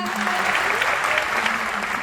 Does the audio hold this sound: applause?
yes